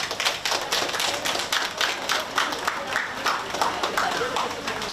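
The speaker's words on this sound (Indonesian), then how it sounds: "Boleh tepuk tangan dong, Bu." Studio audience in a live morning talk show clapping together, a steady wash of applause lasting throughout with no clear pauses.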